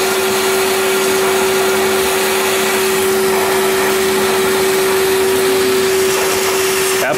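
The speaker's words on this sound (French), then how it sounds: "Faut aspirer dans la fente là." A vacuum cleaner roars steadily at close range, sucking inside a slot of an iced-up commercial freezer unit, with a loud constant whine and a strong tonal hum throughout.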